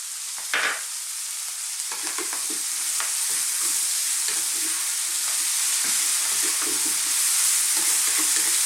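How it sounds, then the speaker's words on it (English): Mushrooms stir-frying on high heat in a pan for a chickpea mushroom fry, a loud constant sizzle with repeated scraping and tossing strokes throughout, close up and free of talk. "Now we're just going to stir fry this around on this high heat, turning all the time"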